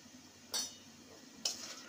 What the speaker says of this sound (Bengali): ভালো করে মশলার সাথে নেড়ে নেব।